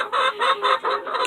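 Chickens in their coop cluck in a rhythmic series of bursts, several birds close by and moderately loud, with no talking.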